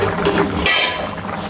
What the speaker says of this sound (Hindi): अब पानी में अच्छे से जोश आ रहा है